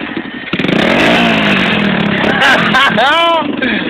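A motorcycle engine fires up and revs loudly close by, rising and falling in pitch with a sharp throttle blip near the end, while a voice talks over it.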